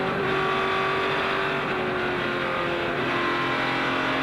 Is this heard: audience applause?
no